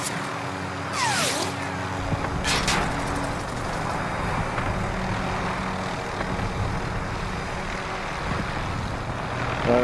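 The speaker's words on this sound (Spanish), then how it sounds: "Yo estoy arriba con el helicóptero haciendo estragos" A helicopter flies in a video game, a steady engine and rotor drone with passing whooshes and mechanical tones, continuous and fairly loud with no speech.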